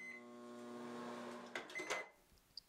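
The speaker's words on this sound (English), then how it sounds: "Then we will microwave the soap for about 40 seconds." A steady electrical hum from a running microwave melting soap, with a few clicks and a brief louder clatter near the end before it settles.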